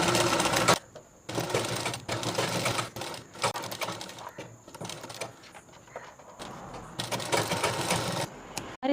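A sewing machine stitching a men's kurta runs in several loud, steady bursts of rapid mechanical whirring, separated by brief pauses, close and with no voices.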